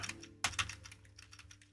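Keys pressed on a computer keyboard during a PC game session, a faint run of soft clicks and taps over a low steady hum, with no talking.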